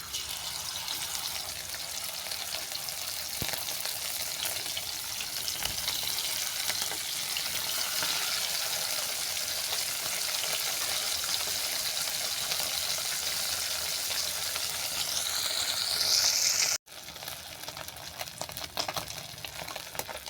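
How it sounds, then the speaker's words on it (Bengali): Parshe fish frying in mustard oil in a wok, a dense continuous sizzle and crackle that holds steady and close for a long stretch, with a brief sharp gap near the end. "এর মধ্যে মাছগুলো উল্টে পাল্টে বাদামি করে ভেজে নিচ্ছি"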